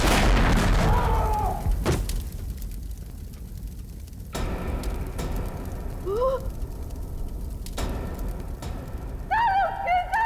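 A bomb explosion in the Hindi TV crime drama CID: a heavy boom at the opening that decays into rumble, then dramatic musical stings and swells.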